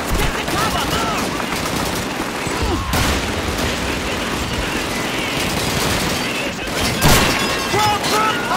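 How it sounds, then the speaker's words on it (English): MG-42 machine gun fire in a Call of Duty 2 battle at a crossroads, a dense, continuous crackle of gunfire with distant bursts and a louder blast near the end, under shouted voices. "There's an MG-42 at the end of this road!"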